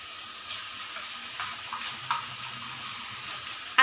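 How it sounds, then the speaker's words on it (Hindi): Ground spices being stirred into tomato puree gravy frying for shahi paneer, a soft steady sizzle with a few light scrapes and a sharp utensil clink at the end. "अब इनको भी अच्छे से चला लेंगे हम और मिक्स कर लेंगे इसमें।"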